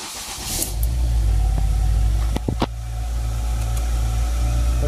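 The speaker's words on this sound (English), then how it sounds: "I'm going to go ahead and give her a test crank" A Ford Focus engine cranks with a few sharp starter bursts, then catches and settles into a steady, close idle hum.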